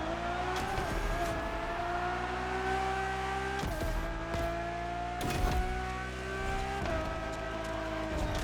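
A Ferrari Enzo engine in The Crew Motorfest holds a steady, loud tone with several shifts in pitch, and a tire squeal or brief burst sits over the sustained drone.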